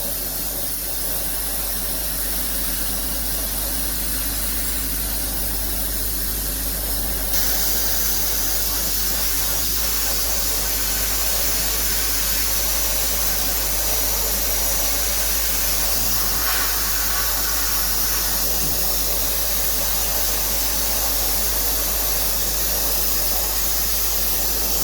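An SBC350F blast cabinet gun fitted with a very large nozzle blasting paint off a part, a loud, continuous broadband hiss that steps up in intensity partway through and runs steadily with no talk.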